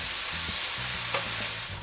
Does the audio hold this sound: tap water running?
no